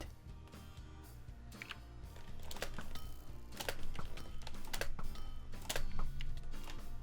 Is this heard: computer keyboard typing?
yes